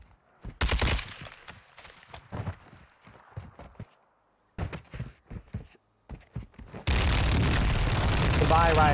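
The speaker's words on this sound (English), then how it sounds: "I'm running through the explosions." Video game combat in Warzone 2 brings bursts of sharp gunfire and explosions in irregular volleys with brief gaps, ending in a dense, loud roar of blasts.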